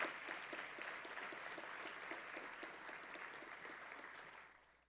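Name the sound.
audience applause for faculty and staff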